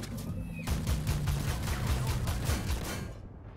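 Tank cannon fire and battle noise in the World of Tanks video game, T-15 tank: a dense, steady rattle of rapid repeated shots for about three seconds, fairly quiet, then a sudden drop to silence.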